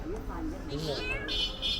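A cat on a Guangzhou street meows a few times in short rising and falling cries, close by, while voices talk around it.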